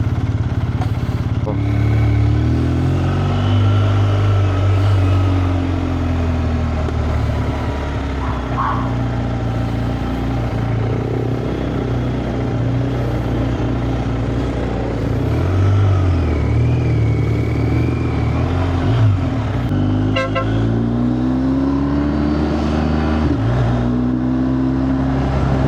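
A BMW R 1250 GSA motorcycle riding along a road, its engine note droning steadily and loud up close, with shifting tones as speed changes and some wind and road clatter throughout.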